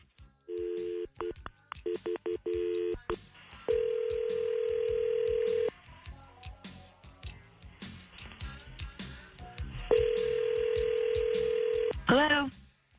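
Phone call placed: rapid touch-tone dialing bursts, then two long steady ringback tones separated by a pause, ending with a short pickup sound before a voice answers; clear and close.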